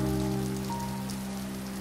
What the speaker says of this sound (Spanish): Lloviendo está.